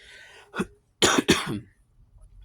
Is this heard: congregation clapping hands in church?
no